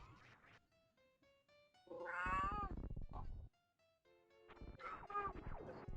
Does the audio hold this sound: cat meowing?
yes